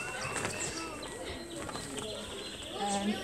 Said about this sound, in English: A couple of pigeons up in there, look.